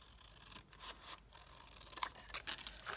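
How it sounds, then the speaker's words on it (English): Scissors snip through excess decorative paper trimmed around a covered notebook, a few close, crisp cuts and scraping rustles of the sheet, fairly quiet, with no talking. "I'll just cut off the excess."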